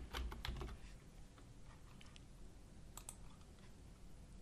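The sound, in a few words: typing on a computer keyboard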